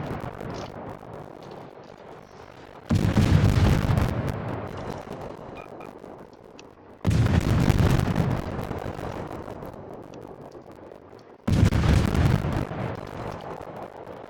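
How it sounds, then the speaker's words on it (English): Naval gunfire in a warship video game: three heavy booming salvos about four seconds apart, each a loud broad blast that decays slowly, over a low background rumble. "Oh, he's shooting at me"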